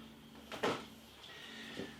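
The plastic side door of a Krups coffee machine clicks open with a short, close latch snap and a faint rattle, followed by a second softer click, in a quiet room.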